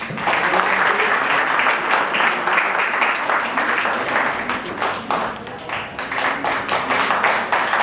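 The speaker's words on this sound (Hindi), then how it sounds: "भाई जोरदार तालियों स्वागत होना चाहिए" An audience at a city awards ceremony breaks into loud, sustained applause, dense clapping close and continuous with slight swells and dips, with no clear talk over it.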